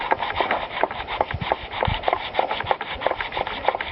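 Sandpaper rubbing off an old pump gasket, a close, loud, rhythmic back-and-forth scraping with repeated strokes throughout.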